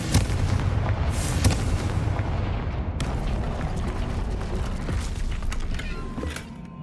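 Confringo blasting-spell explosions in the Hogwarts Legacy video game, a dense, continuous barrage of booms and crackling debris that stays loud and close throughout, with no talking.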